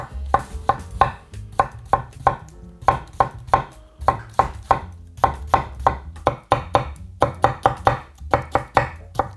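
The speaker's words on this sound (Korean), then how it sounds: "오이도 채 썰 거예요." A knife on a cutting board chops cucumber into thin strips with quick, crisp knocks, repeated in bursts and close by.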